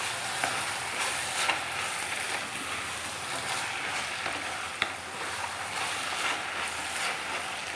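Carrot pickle with ginger garlic paste sizzling in a hot pan as it is stirred, a steady broadband hiss with a few brief scraping clicks, fairly close and continuous with no talking.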